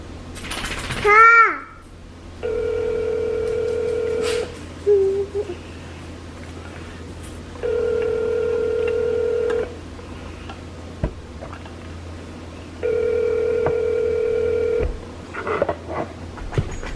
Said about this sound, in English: I want to say he just doesn't have his phone near him because it rings the same amount of times